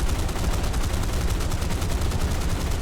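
Rapid, continuous automatic gunfire from a P-38J fighter's guns in the War Thunder video game, a dense unbroken rattle filling the whole stretch at steady loudness, with no talking over it.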